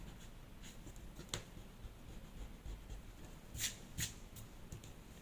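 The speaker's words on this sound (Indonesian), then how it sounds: "yang di bawah dan di atas kelebihannya kita hapus dulu ya" Pencil lines of a manga eye drawing being erased on paper, a soft continuous rubbing with a few brief sharper scratches, close and quiet.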